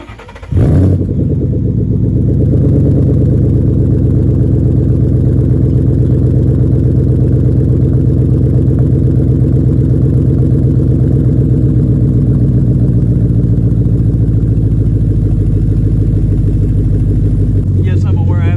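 A warm car engine with a badly leaking exhaust catches with a quick crank and settles into a loud, rough, continuous idle that holds close and steady for the rest of the recording.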